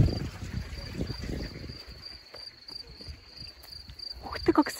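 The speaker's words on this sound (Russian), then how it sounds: "Ух ты, как сверчки поют." Crickets chirping outdoors in a village, a steady high continuous trill running throughout, with low rumbling and bumping noises, then a few clicks near the end.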